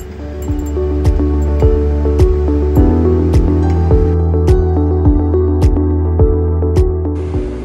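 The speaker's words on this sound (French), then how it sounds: "on agite le mélange à l'aide d'une tige de verre afin d'observer la dissolution complète du solide" A glass rod stirring a mixture of water and solid in a laboratory beaker makes loud, steady, rhythmic clinks against the glass, close up and without speech.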